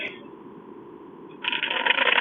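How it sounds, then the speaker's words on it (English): A tarot deck is given a quick bridge shuffle, a soft papery rustle followed by a brighter, louder riffle of cards in the second half, close and alone. "A quick bridge shuffle"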